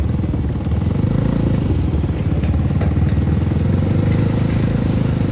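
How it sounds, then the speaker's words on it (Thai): Fuel delivery truck engine runs at a steady idle nearby, a constant loud low rumble with mechanical clatter throughout and no speech. "นี่เฮียก็เอารถน้ำมันมาส่งแล้ว"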